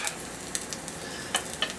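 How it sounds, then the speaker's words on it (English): Ginger piece dropped into hot oil in a pan, giving a light crackling sizzle with a few brief sharp pops over about two seconds, close and moderately loud with no talking. "I always take a little piece of ginger and drop it in. If it sizzles like that, your oil's ready to go"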